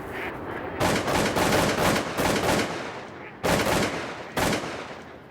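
A Winchester Super X4 shotgun fired at waterfowl in the field: several loud, booming shots in quick succession, each followed by a ringing decay, then two more separated blasts, close and dominating.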